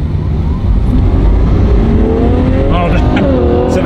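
Ferrari F12 N-Largo accelerating hard as its exhaust valves open, the engine note climbing loud and close in rising sweeps over a steady low rumble.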